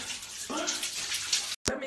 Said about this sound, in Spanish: Usted coge un balde, esto es una olla más chiquita, la echa de agua tibia y se baña.